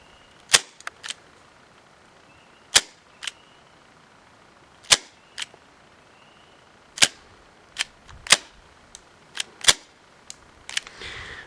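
An HFC 131B airsoft revolver fires .20 BBs outdoors, each shot a sharp, isolated crack, roughly a dozen of them at irregular intervals over near-silent background.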